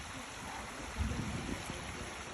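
Floodwater rushing through a swollen stream at a wooded reservation in January, a steady broadband wash of flowing water with a brief louder surge midway.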